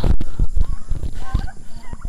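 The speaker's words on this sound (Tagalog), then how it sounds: "Mga native itong manok namin, kaya naglilimlim." Native chickens on a small farm cluck and squawk loudly at close range, a busy stretch of repeated calls with no talking.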